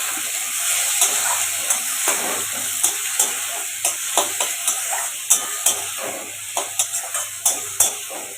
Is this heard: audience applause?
no